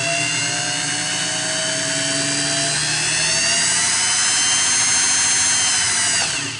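Singer 401A Slant-O-Matic sewing machine motor whirring steadily as it winds the bobbin, a close, continuous high-pitched drone with a slight rising whine that cuts off at the end.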